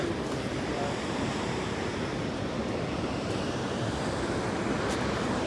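The Saraswati river rushes near Mana village on the trek toward Vasudhara waterfall, a steady, loud, broadband roar of flowing water with no breaks, close by and continuous, with no voices over it.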